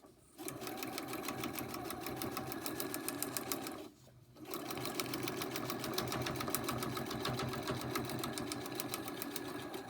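A sewing machine stitches joined fabric pieces in a rapid, even mechanical chatter, stopping briefly for a moment before running steadily again, close and alone without talk.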